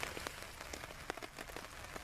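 Rain patters steadily on a surface at a natural outdoor camp under overcast skies, a soft, dense hiss dotted with sharper individual drops, fairly faint and with no voices.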